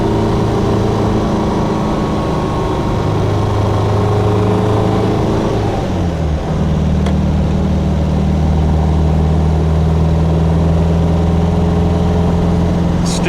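A 1962 MG A 1600 MKII roadster's engine drones steadily while driving, with a gear change around the middle dropping the pitch into a lower, rumbling hum that continues loudly and close up.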